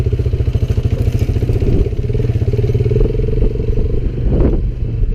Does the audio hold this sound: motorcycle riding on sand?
yes